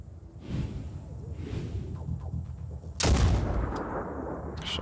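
Shotgun fired in the turn-based game Phoenix Point: one sharp, loud blast cuts in after a few seconds of low background rumble and whooshing movement, with a fading tail.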